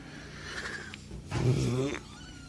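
A small kitten gives a couple of low, drawn-out meows up close, with soft background noise.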